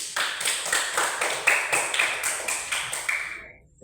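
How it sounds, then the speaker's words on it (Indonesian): A group claps hands together in a steady rhythm of sharp, bright claps at a teacher's call, about eight even beats, fairly close, ending abruptly. "Tepuk tangan semuanya"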